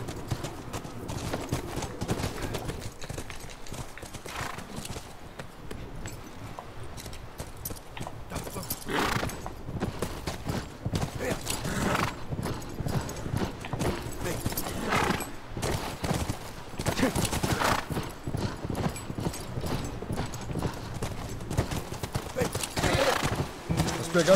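Horse hooves clip-clop in a steady, moderately close rhythm in the video game The Last of Us, with scattered gunfire and mechanical noises alongside while a player talks.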